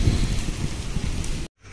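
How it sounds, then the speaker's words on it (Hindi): Heavy rain pours down in a street where water has begun running through the lanes, a dense steady wash of noise that cuts off abruptly near the end before resuming more quietly. "अब तो काफ़ी हैवी बारिश हो रही है भाई"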